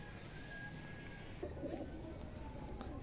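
Soft cooing from a slate-grey Kamgar pigeon in a short low burst midway through, over a steady background hum, with faint distant chirps.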